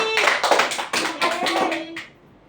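A short burst of hand clapping, several quick claps close by, with faint voices, ending in quiet.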